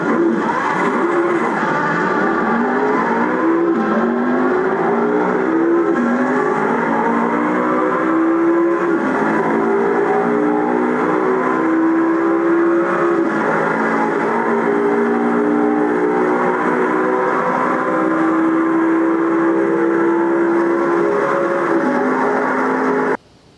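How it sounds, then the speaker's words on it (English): A McLaren drag racing in the sim racing game Assetto Corsa, its engine a loud, steady drone climbing through repeated gear changes, with the pitch rising and dropping for about twenty seconds. "Of course, you can do other events such as drag racing in this McLaren."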